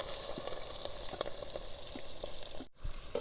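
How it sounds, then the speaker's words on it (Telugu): Sliced green chillies and onions fry in hot oil in a pan for egg dum biryani, giving a steady close sizzle with scattered pops and a brief cut in the middle. "ఇవి వేసుకొని లైట్ గోల్డెన్ కలర్ వచ్చేదాకైతే వీటిని ఫ్రై చేయాలి"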